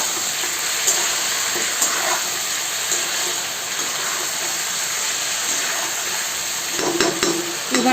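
Desi chicken curry is stirred in a pan, a constant low sizzle with soft scraping strokes of the spoon at intervals and a few louder clinks and stirs near the end.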